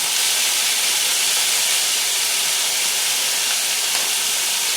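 Honey garlic sausage pieces and celery sizzle loudly in a hot pan, a dense, constant hissing roar that stays close and unbroken throughout with no talk.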